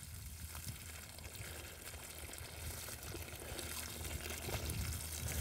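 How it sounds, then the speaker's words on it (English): Water pours from a tank onto an 80-foot garden row and pools on top of the soil, giving a steady, soft rushing trickle that runs unbroken and fairly quiet, with no talking. "I'll let it pool up on top of the row, maybe 3/8 to a half inch deep."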